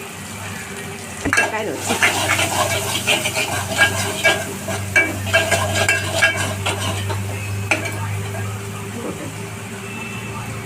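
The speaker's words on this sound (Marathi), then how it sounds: "आता मी सुके मसाले टाकते जरा तेलावरती।" Dry spices frying in oil in a home kitchen, with a steady soft sizzle under repeated scraping and stirring of a utensil against the pan, and a brief spoken remark.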